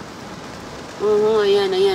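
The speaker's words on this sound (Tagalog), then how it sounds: "grabe ka ulan pa talaga mga kaibigan" Heavy rain at a self-service gas station, a steady hiss of downpour throughout, with a voice speaking briefly over it and a tonal hum rising in the second half.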